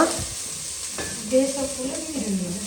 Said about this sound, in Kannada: ಒಗ್ಗರಣೆಗೆ ನೀರುಳ್ಳಿ ದಿಯೇರು ಬೊಕ್ಕ ನೀರುಳ್ಳಿ ಬೊಕ್ಕ ಕರಿಬೇವು ಯಾದೆಮ್ಮ